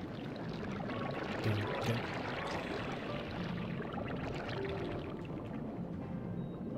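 A steady rushing wash of falling water from a waterfall in Super Mario Galaxy 2, continuous and full for the whole stretch, with one brief spoken word near the start.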